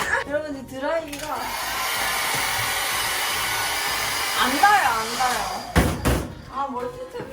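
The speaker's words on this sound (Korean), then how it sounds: "드라이기 한번 해볼까?" A hair dryer runs in an old studio apartment, its cord stretched toward a distant outlet, giving a loud, steady whir for several seconds. People talk over and around it, and a few knocks or bumps sound near the end.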